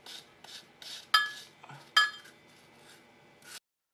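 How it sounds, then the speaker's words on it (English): Apples being sliced with a knife in a home kitchen, a series of short scraping cuts and a couple of sharper knocks on the board, close up and without speech. "So right now we are slicing up some apples"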